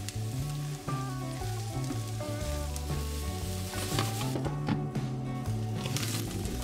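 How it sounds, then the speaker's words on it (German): Onions, garlic and white cabbage sizzle and fry steadily in a pan, with occasional stirring and scraping, close and moderately loud. "nimmst du dieselbe Pfanne und bratest die restlichen Zwiebeln zusammen mit dem Knoblauch und den Weißkohlstreifen"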